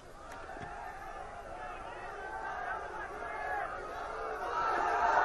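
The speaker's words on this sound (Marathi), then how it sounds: "विजयी उमेदवारांच्या पक्षांच्या कार्यकर्त्यांनी जल्लोष केला आहे" Party workers celebrate election results with a loud, steady crowd roar of cheering and chatter that swells gradually toward the end.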